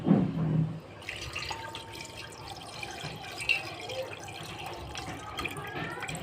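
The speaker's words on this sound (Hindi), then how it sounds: "अब हम इसमें थोड़ा सा पानी ऐड कर देंगे।" Water is poured into a cooking pot holding goat brain seasoned with turmeric and salt, a brief splash and pour at the start followed by soft liquid trickling and kitchen background noise.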